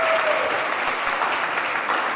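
An audience at a real estate investing talk claps for a speaker, producing a dense, steady burst of applause from many hands that holds at an even level for the whole stretch.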